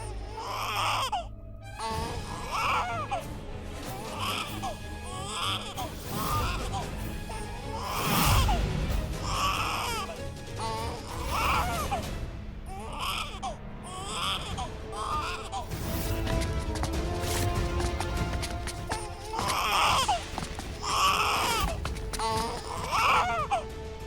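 A baby cries in repeated wailing bursts with gasps between them, sustained and fairly close, with other sounds occasionally mixed in.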